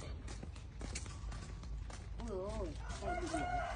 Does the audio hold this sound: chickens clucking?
yes